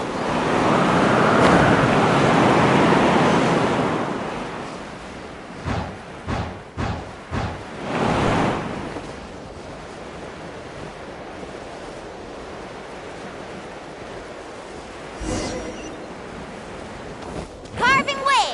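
Ocean waves rushing while surfing in Genshin Impact, Natlan region: a loud, broad washing surge at the start fades into quieter sloshing with several short splashy bursts, then low steady water noise.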